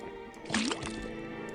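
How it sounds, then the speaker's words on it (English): A short liquid drip and splash as liquid falls from a faucet into a cauldron in the Detective Grimoire game, faint and brief over a soft musical background. "put the sample of liquid into the cauldron, then tap the faucet"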